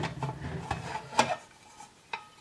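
A 1966 Swiss SIGG metal mess kit being opened, with its lightweight lid and a spoon and fork inside; several sharp metallic clinks and scrapes, spaced irregularly, fairly close and quiet.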